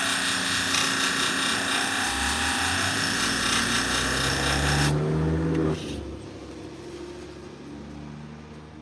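Salon shears blade being sharpened to a convex edge, a steady abrasive grinding rasp that runs loud for several seconds, then drops abruptly to a quieter hum as the grinding stops.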